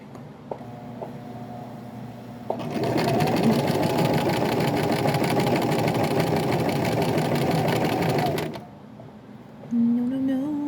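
A sewing machine starts up and runs in a loud, steady, close mechanical whir with a fast rattling pulse for about six seconds, then stops and leaves a quiet room.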